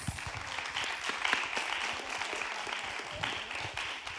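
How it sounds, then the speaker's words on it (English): An audience at a music and peacebuilding session gives a round of applause, a steady, fairly soft wash of many hands clapping that continues throughout. "Big round of applause"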